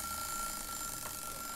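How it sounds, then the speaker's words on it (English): A timer alarm sounds during a computer game recording, a steady high electronic tone holding through the whole moment over a dense, noisy game soundtrack. "that's just that my timer telling me that's an hour that I've been recording"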